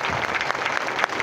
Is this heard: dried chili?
no